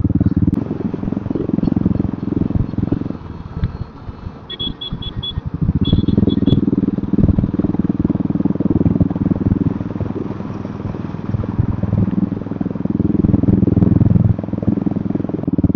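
A motorcycle on a one-day bike trip along the road, its engine a loud steady rumble with wind buffeting throughout and a brief beeping partway through.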